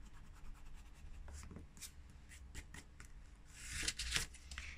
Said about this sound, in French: Ici, il y a des petits traits de crayon, donc j'efface avant